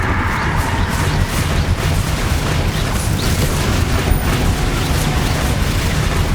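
Confringo explosive spell blasts in Hogwarts Legacy, a dense, loud, continuous roar of rumbling booms and bursts with no clear gaps, filling the whole stretch without speech.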